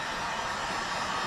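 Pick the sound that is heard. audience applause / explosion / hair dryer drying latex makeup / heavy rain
hair dryer drying latex makeup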